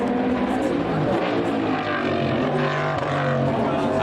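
NASCAR race cars thunder past on the Le Mans circuit, a loud, sustained engine roar that holds steady throughout with little gap between cars.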